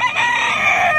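A rooster crows loudly and close at a livestock market in San Carlos, one sustained call lasting about a second with clucking fowl behind it.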